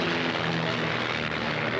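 Propeller aircraft of an aerobatic display team flying over Douglas Promenade on the Isle of Man, a steady, broad engine drone holding constant throughout at moderate distance, with no voices.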